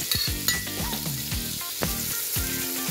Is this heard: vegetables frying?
yes